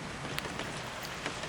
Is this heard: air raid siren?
no